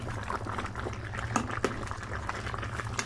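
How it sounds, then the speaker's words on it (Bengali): Beef curry boiling in a pot on a stove over raised heat, a steady low bubbling simmer with a constant hum underneath and a few soft pops, heard close up. "চুলা বাড়িয়ে দেওয়ার পর মাংসর মধ্যে বলক চলে এসেছে"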